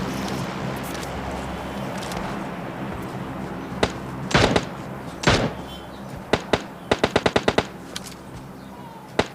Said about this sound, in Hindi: फायरिंग की आवाज़ आ रही थी बहुत ज़्यादा